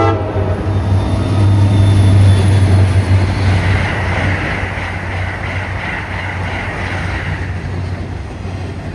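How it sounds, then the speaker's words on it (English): A freight train rolls along the far track while a next-gen Acela passes through the middle, sounding its horn in a long blast over a heavy, continuous rail rumble that stays loud before easing slightly. "On the far track we've got a freight train coming through, and then passing it through the middle is going to be a next-gen Acela"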